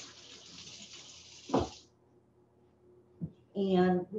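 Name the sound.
rinsing hands under running tap water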